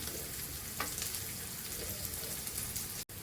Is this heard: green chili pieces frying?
yes